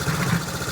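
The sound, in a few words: 1969 Honda CT90 motorcycle engine idling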